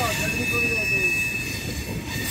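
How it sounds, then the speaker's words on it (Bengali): A train pulls out of Visakhapatnam station bound for Howrah, with a steady rail rumble and a sustained high wheel squeal throughout. "ট্রেন হাওড়ার উদ্দেশ্যে ছেড়ে দিল বিশাখাপত্তনম স্টেশন"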